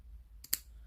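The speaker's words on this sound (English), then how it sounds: "we just cut the tag ends off of them" Scissors snip the tag ends off a fishing line slip D rig: two faint, quick clicks close together in an otherwise quiet room.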